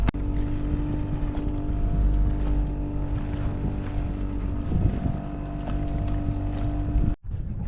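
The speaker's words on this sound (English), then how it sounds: "the wind is like really low, so I've got the engine on" A sailboat motoring on its engine in light wind off the Isle of Wight, heading toward Ryde Marina, gives a steady, close engine drone with wind noise buffeting the microphone, briefly cutting out near the end.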